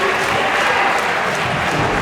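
Crowd at a wrestling event in a domed arena applauding and cheering, a dense, steady wash of clapping and voices that holds at one level throughout.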